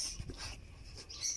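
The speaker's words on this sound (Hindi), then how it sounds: "ये देख सकते हैं अलिसेशन कुत्ते हैं ये" An Alsatian dog at a farm house in Jeddah gives a few soft, brief whimpers with some breathy panting. The sound is close and fairly faint, with no talking.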